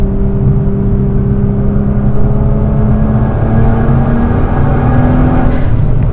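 A 2010 Nissan R35 GT-R with a 3.8-litre twin-turbo V6 (VR38DETT, 575 hp) accelerates as a loud, steady engine drone with a rising tonal whine that holds throughout.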